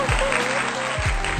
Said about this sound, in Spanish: Démosle un aplauso por favor a Maribel Ciodaro.